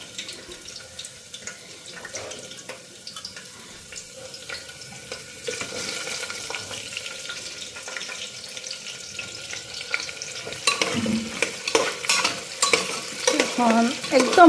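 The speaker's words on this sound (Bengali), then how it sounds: "এদিকে আলু ফ্রাই হয়ে গেছে, একটু পেঁয়াজটা সাতলায় নিই।" Onions are sautéed over a low flame in a pan that has just fried potatoes, a quiet sizzle with stirring and scraping that builds louder toward the end, with watery clinks mixed in.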